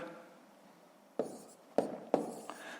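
Numbers are written by hand in a notebook for a fifth-grade column-addition problem: a second of near silence, then three short, close scratching pen strokes, with no talking.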